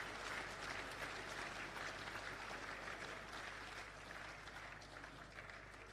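An audience at a football league medal presentation night applauds the board members, a faint, continuous spread of many hands clapping that holds evenly throughout.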